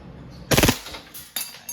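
A WE Hi Capa T-Rex airsoft pistol, black, fires a short full-auto burst of rapid snapping shots, followed by a couple of sharper single cracks a moment later, loud and close with no talking.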